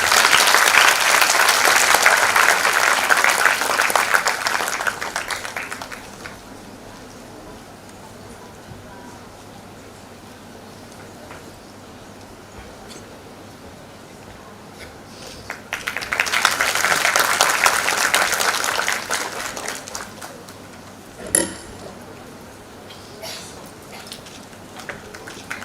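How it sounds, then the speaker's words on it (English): Two bursts of audience applause fill a conference hall, the first loud from the start and fading after about five seconds, the second swelling again mid-clip, with a sharp knock or clap after it. "I request audience to give a huge round of applause."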